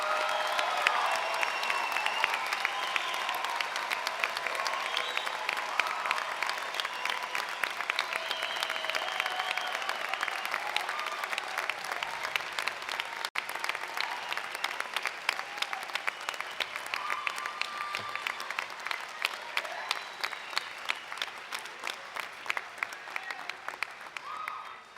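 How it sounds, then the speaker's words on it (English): A commencement ceremony audience gives sustained applause, dense crackling clapping from a large crowd that runs the whole length and thins slightly toward the end. "another round of applause to recognize them all"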